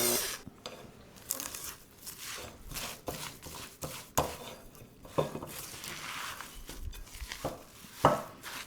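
Rice Krispie cereal being stirred into a sweet almond bark mixture in a bowl, with irregular crunchy scraping and clinking strokes, close and moderately quiet, repeating over several seconds.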